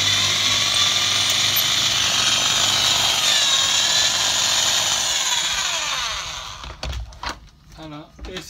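An electric drill works on a very hard, stuck screw aboard a boat at anchor, making a steady high whirring grind for about six seconds before it cuts off. A voice then talks over the quieter remainder.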